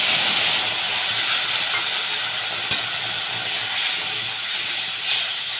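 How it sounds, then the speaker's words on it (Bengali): Ground tomato, ginger and chili paste fries in a pan with a loud, steady, even hiss and one sharp click partway through. "সব দিয়ে ভালো করে যতক্ষণ না টমেটোর কাঁচা গন্ধটা যাচ্ছে আমি ভেজে নেবো ভালো করে"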